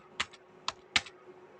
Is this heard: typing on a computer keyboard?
yes